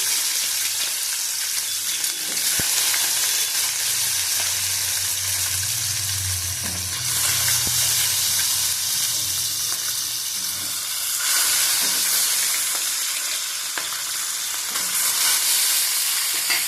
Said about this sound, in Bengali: হালকা ভেজে দেবো।